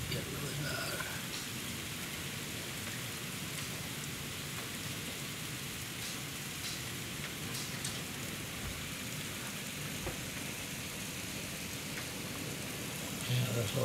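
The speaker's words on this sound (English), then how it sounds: "You can hear the hail." Heavy storm with hail and rain hammering down outdoors, a continuous dense roar of impacts at a steady loud level for the full stretch.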